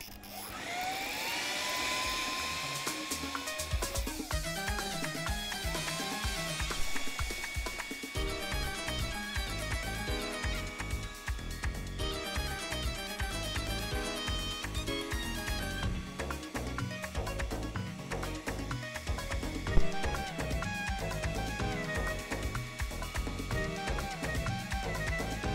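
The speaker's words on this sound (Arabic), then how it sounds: "هبدأ بقى أفرم كل الخضار اللي معاه اللي أنا حطيته ده، الخضار اللي أنا شوياه، مع شوية" An electric food processor or blender minces grilled vegetables with spices for baba ghanoush, running with a loud continuous whirring motor and chopping clatter for the whole stretch, with no talking.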